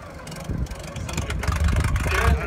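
Brass era classic car engine running with its exhaust cutout open at a museum demo day: a steady, rough, throbbing exhaust rumble that builds slightly, heard at moderate distance with outdoor background noise.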